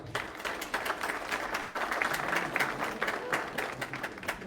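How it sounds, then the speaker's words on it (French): Applause from the audience at the Gov'athon 2025 award ceremony, a steady wash of many hands clapping close and fairly loud, with a brief dip partway through. "Je vous demanderai, Mesdames, Messieurs, de l'applaudir encore très fort."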